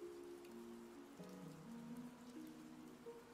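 Steady, soft rain ambience from the Zelda Breath of the Wild video game, set in a rainy town, with gentle melodic tones drifting over the continuous patter.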